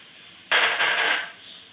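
Curry leaves hit hot oil with spice powders and give a sudden sharp sizzle that lasts under a second and then fades quickly.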